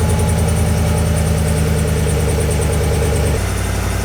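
Chevrolet Silverado ZR2 pickup with its 6.2-litre engine and stock exhaust idles steadily with a low, even rumble and faint mechanical hum, loud and close, with a slight drop in tone near the end.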